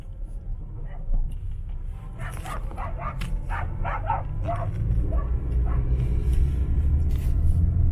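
Several dogs bark and yip in short excited bursts from a moderate distance beside a road, over a steady low rumble of a car interior.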